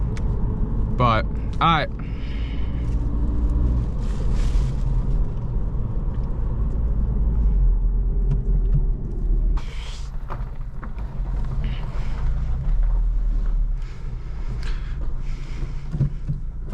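Steady low car engine rumble running throughout from inside the vehicle, with brief tonal chirps near the start and a voice speaking a few words over it.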